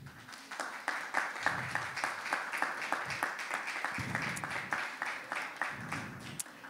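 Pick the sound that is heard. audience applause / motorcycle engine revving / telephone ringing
audience applause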